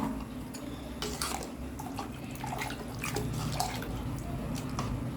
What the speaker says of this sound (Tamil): இந்த மிக்ஸி கழுவின வாட்டர் சேர்த்துக்கலாம்.